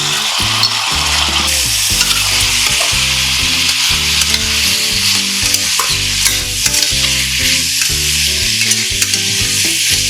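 Chicken with garlic and ginger sizzles loudly and steadily in a pan, a constant close frying hiss that carries on under background music without a break.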